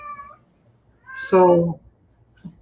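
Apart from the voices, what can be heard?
cat meowing to be let out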